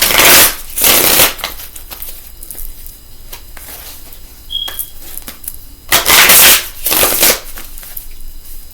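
A deck of tarot cards being shuffled and cut at close range, with loud riffling bursts at the start and again later, separated by softer taps and handling noise.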